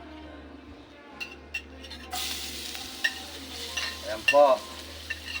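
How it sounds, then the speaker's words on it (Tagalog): Garlic and onion hit hot oil in a pan, starting a bright sizzle partway through that keeps crackling, with a few clinks of a utensil against the pan and a brief spoken remark. "Ngayon po igigisa po natin yung bawang sibuyas."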